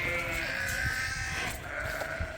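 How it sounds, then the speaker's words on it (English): Sheep bleat repeatedly on a farm, several overlapping nasal cries close by with a steady background murmur. "But sheep don't like water."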